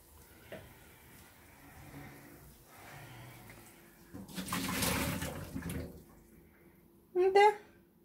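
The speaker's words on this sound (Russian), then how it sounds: "Пузыри сильные пошли, девочки." Coffee boils hard in a pot, with a burst of rushing, bubbling hiss in the middle and softer simmering around it, close up.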